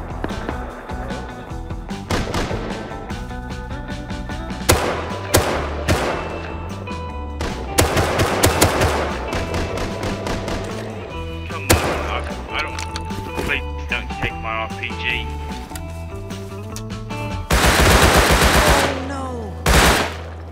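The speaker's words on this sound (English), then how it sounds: "went exploring and heard some nearby gunshots" Bursts of gunfire in the survival video game Rust, with rapid machine-gun volleys and single shots scattered throughout, some close and loud, others more distant, ending in a dense noisy burst.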